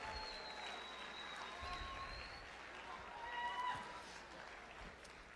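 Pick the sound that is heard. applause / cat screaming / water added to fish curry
applause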